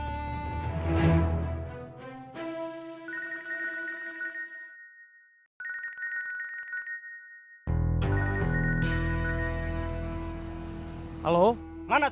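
Telephone ringtone trilling in short electronic bursts of repeated tones, sounding twice with a pause between, before louder music and voices take over near the end.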